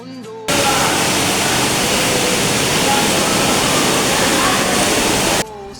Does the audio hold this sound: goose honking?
no